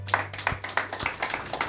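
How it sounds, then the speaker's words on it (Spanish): A church congregation claps in a quick, uneven rhythm, sharp hand strikes repeating through the short burst, with a low steady hum beneath. "Dele un fuerte aplauso a Dios en esta noche"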